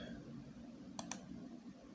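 A computer mouse clicks twice in quick succession while working in 3D Coat, two crisp, close clicks over a faint low hum.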